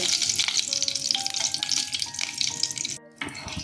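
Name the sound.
cardamom, cinnamon, dried chili, cloves frying in oil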